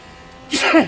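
A single sharp sneeze bursts out suddenly after a moment of quiet, close and loud, from a person preparing for an online race.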